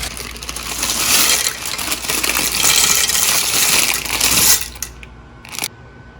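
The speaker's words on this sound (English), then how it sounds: "now we're going to add the macaroni." Dry macaroni poured from a box into a skillet of milk, a dense rattling cascade of small hard pieces lasting several seconds, close and fairly loud, ending with a few scattered clicks.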